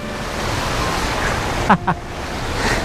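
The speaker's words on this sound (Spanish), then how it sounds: "Mirad qué cascada tremenda." Steady rushing water from a small waterfall in Laos, with two brief knocks partway through.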